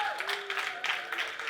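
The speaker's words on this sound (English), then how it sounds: "give them a round of applause." A seated audience at a business summit claps in a brief, moderately loud round of applause with a voice audible over it.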